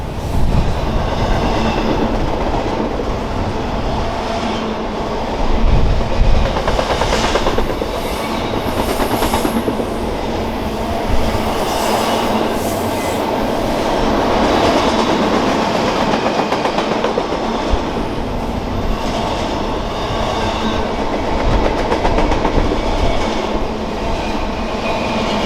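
CSX intermodal freight train I-003 carrying priority stacks westbound out of Selkirk terminal, rolling past steadily and loud for the whole stretch with a dense rumble, rhythmic clickety-clack of wheels over rail joints and faint intermittent squeal.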